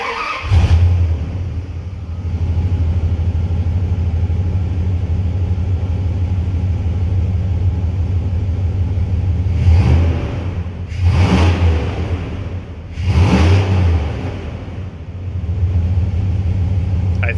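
A flatbed truck with a rebuilt 5.9 engine runs outdoors with a steady, loud low idle rumble, then revs up in three distinct bursts near the end before settling back to idle.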